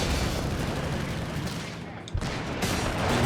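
Continuous machine gun fire in Company of Heroes 3, a dense unbroken clatter of battlefield shooting with a brief dip partway through.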